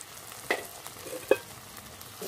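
Chilli, cumin and garam masala powders sautéed in a pan for a potato and egg masala curry, a low sizzle broken by two or three brief spoon scrapes close by.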